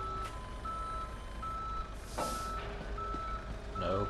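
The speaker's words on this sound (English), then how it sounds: "Well, that's a fancy tow truck." A fancy tow truck reverses in the Police Simulator: Patrol Officers video game, its backup alarm sounding a steady series of evenly spaced high beeps, with a short hiss of air brakes partway through and no talking.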